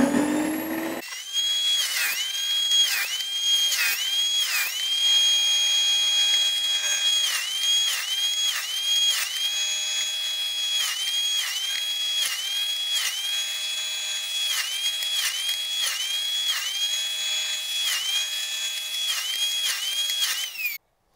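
A power tool routs 11 mm grooves into wooden boards for a Warré beehive, a steady high-pitched whine that dips briefly again and again as the cutter bites, close and loud for about twenty seconds with no talking.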